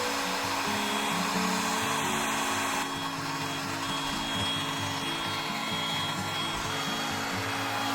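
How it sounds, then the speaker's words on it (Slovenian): A hair dryer blows hot air over an olive wood bowl to melt carnauba wax and tung oil, a steady loud whirring hiss that runs unbroken and close throughout. "glede na to, da smo uporabili fen"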